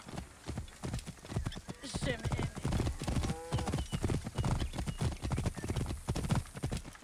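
Rapid, rhythmic hoofbeats of a galloping horse in a race in the video game Assassin's Creed Origins, close and continuous, with a brief whinny and voices speaking over the pounding.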